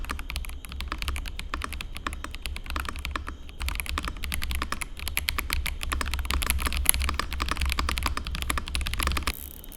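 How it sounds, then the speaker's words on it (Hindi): Steady, rapid typing on a Kreo Swarm modular mechanical keyboard without clicky switches, crisp clacking keystrokes in a continuous close-up stream with brief pauses, no voices. "इस कीबोर्ड की जो साउंड है वो भी बहुत सेटिस्फाइंग है"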